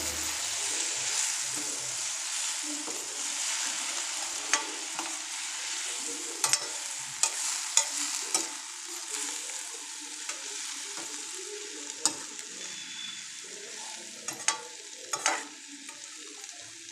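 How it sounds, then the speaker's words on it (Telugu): Gongura leaves cook down in oil in a pan for gongura pappu, giving a soft continuous sizzle with occasional sharp ticks and scrapes from stirring, close by, and no one talks. "ఇది 2 నిమిషాలు నూనెలో మగ్గనివ్వాలి."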